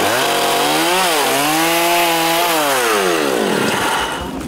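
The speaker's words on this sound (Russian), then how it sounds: "постоянно слышится работа пилы и стук молотков." A power saw works loudly and close during roof repair on an apartment house more than 60 years old, its motor whining and dipping in pitch as it cuts, then trailing off at the end.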